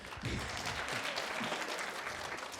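An audience at a middle school winter band concert claps briefly for a staff member, a thin, fairly quiet patter of hands heard from a distance, with some low murmuring underneath.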